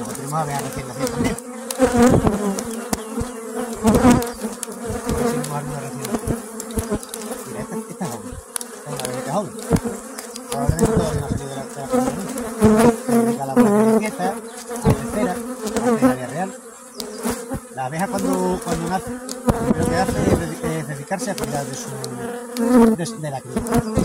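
Dense, continuous buzzing of many honeybees close by, a steady swarming hum that swells and dips throughout.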